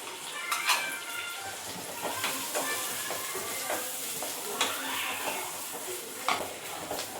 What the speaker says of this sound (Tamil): அது நல்லா வந்து அந்த வெங்காயத்தோடய போட்டு அந்த எண்ணெயிலே வதக்கிட்டோம்னா கொஞ்சம் நல்லாயிருக்கும்